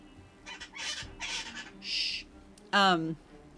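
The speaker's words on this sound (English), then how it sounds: "if you can hear the bird" A bird calls in a run of short chirping bursts, spaced in a loose rhythm, ending with a louder, longer warbling call; it sounds fairly close over a quiet background.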